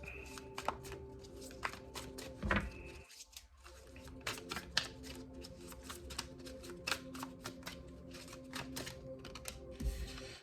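Tarot cards shuffled and drawn for a reading, heard as a long run of quick, close, crisp card taps and flicks in an irregular rhythm, with a brief quiet gap early on and no talking.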